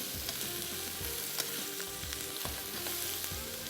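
Chicken filling with pepper and garlic powder is stirred in a hot pan, giving a steady sizzle with repeated scraping and stirring strokes throughout, close and continuous with no talking.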